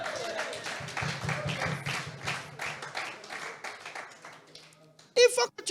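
A church congregation claps and cheers in a dense, continuous burst of many hands and raised voices for about five seconds, then a preacher's voice cuts in loudly near the end.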